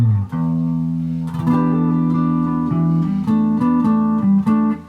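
An electric guitar plays the intro section, with sustained chords and double stops answered by quick plucked embellishments, clear and close with no talking.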